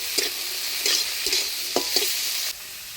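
Onion, garlic and green chilli fry in hot oil with small shrimp in a home kitchen, a steady close sizzle broken by several clacking spatula strokes against the pan.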